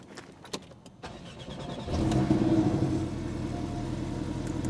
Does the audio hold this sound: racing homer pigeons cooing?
no